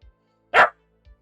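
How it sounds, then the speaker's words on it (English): A single loud, close dog bark rings out alone during indie horror game development, with faint thumps just before and after. "No, no, no, no barking."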